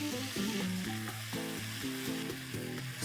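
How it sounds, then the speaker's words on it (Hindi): Soy sauce hits hot oil with finely chopped garlic and ginger in a paneer chilli stir-fry, a steady close sizzle and hiss running under soft melodic background tones. "अब डालूंगा इसमें सोया सॉस।"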